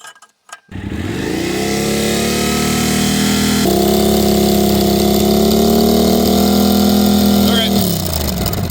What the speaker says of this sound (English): Let's throw the decibel killer in there and see what we get